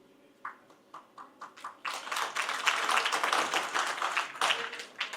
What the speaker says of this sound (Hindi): ये ताली बजाने का विषय नहीं, ये शौक का है